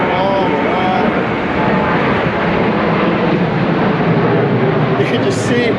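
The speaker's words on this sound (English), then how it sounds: "You can just see that jet went right up into the clouds." A jet aircraft climbing overhead into low, drizzly cloud, heard as a loud, steady, broadband engine roar that fills the whole stretch without letting up.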